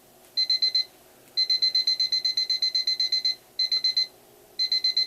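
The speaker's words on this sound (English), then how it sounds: "No, I gotta turn the alarm off." A digital alarm clock keeps sounding: clusters of rapid high-pitched beeps, with one long unbroken run in the middle and shorter bursts before and after, loud and close over a quiet hum.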